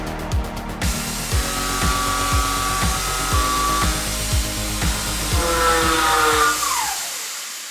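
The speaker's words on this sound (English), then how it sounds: "This is a 3-flue roughing end mill designed for just tearing through aluminum." A three-flute roughing end mill cuts aluminum in a rapid, steady chatter of regular tonal pulses, running loud and alone before the spindle winds down near the end.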